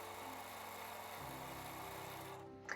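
A speedy sewing machine stitching free motion embroidery through a hooped fabric, a steady fast mechanical whir with buzzing motor tone running without pause, cutting out briefly near the end.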